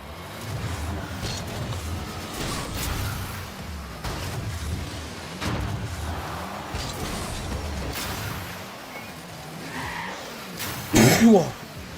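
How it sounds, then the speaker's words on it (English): A muffled, noisy background runs for several seconds, then one loud, close cough bursts out near the end. "Did not mean to cough in your ear."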